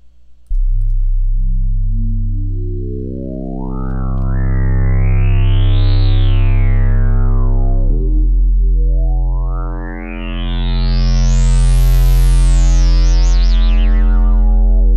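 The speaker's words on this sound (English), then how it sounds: "it's this synth right here. It's called the Lucky Immersion 1G in Harmless" A spacey synth bassline from the Lucky Immersion preset in the Harmless VST plays as a loud, buzzy sustained bass whose filter sweeps slowly up and back down twice, with no talk.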